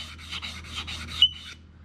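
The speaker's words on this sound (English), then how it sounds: "now, we'll just hand sand this with 320" Hand sanding wood with 320 grit sandpaper, a rhythmic series of about seven close back-and-forth rasping strokes, fairly quiet, ending with a short pause.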